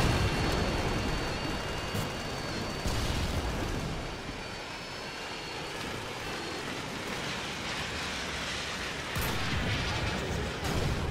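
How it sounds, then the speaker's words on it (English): A predator missile strike explodes in a video game: a sustained, roaring broadband rumble fills the whole stretch, swelling louder near the start and again toward the end, with no voices. "Friendly predator missile incoming."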